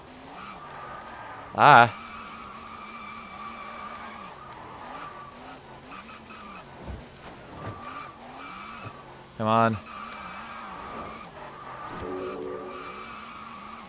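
Tires spin and squeal in two loud bursts from a car in the Test Drive Unlimited racing game, set over a steady engine drone, with a man exclaiming in frustration between them.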